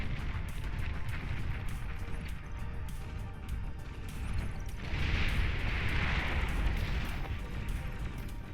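Bombing run explosions in the real-time strategy game Beyond All Reason, a dense continuous rumble of booms and blasts that swells louder midway, with faint voices underneath.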